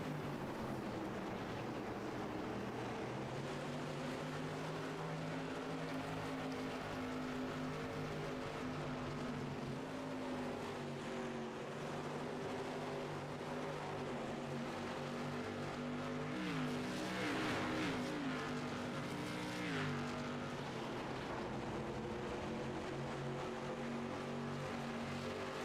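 Race cars roar around Stafford Motor Speedway in a close pack, a continuous layered engine drone with shifting pitches that swells slightly as cars pass, steady and moderately distant throughout.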